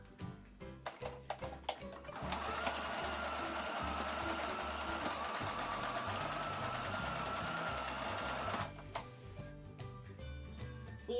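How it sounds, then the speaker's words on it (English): A sewing machine stitches a tote bag seam in one steady, loud run of rapid mechanical ticking that lasts about six seconds, with a few soft handling knocks before and after. "We will be sewing this area over here with a centimeter of seam allowance."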